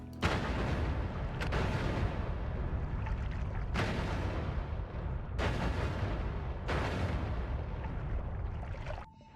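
Repeated explosions in a video game, a series of loud, dense bursts, each swelling and decaying roughly every one to two seconds, sustained for most of the stretch before abruptly cutting off near the end.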